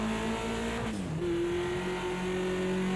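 A BMW 2002 Turbo in the racing game Project CARS 2 at Bathurst, engine droning steadily, dipping briefly around a gear change, then pulling hard again at high revs, with no voices.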